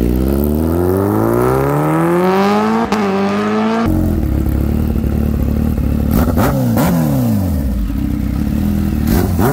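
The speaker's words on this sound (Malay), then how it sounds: "Cuba edit sikit sound motor saya dengan sound H2R tu, mesti laju punya." A high-revving 998cc inline four-cylinder superbike engine climbs through its gears in rising whines, loud and close, then surges again with sharp revs after a brief pause.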